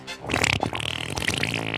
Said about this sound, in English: I offer you, drum roll please, the winning fart.